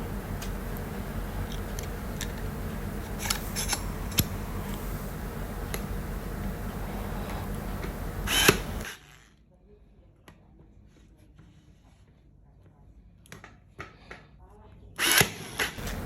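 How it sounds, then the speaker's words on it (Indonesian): A Hasston 4090 cordless 5-in-1 stapler fires brad nails into hard plywood: a steady loud mechanical whir and rattle for about eight seconds, then quiet with scattered faint clicks and a brief sharp burst near the end. "Sekarang kita menggunakan staples yang bentuk paku ya, bread nail ini. Kita coba di plywood."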